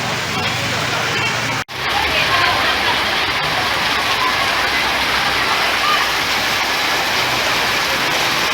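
Heavy rain pours down on a weekly market, a dense, loud, steady hiss of drops on surfaces, broken once by a brief cut early on.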